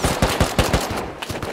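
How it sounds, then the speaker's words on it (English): Rapid gunfire in the survival video game Rust, a quick run of loud, evenly spaced shots cracking out one after another, close and alone. "You got one more shot."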